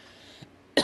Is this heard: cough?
yes